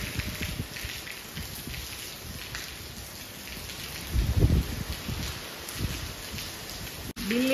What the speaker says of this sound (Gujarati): હું પવન સાથે વરસાદ ચાલુ થઈ ગયો છે